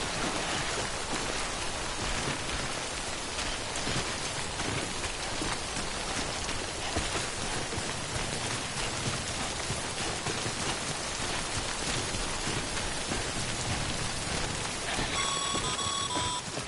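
Timefall rain in the video game Death Stranding falls as a steady, dense hiss that does not let up, loud and close, with a faint chime near the end.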